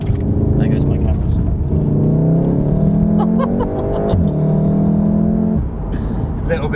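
A 2018 VW Golf R's turbocharged engine pulling hard, rising tones climbing through gears with a brief dip between shifts, loud from inside the cabin with talking over it.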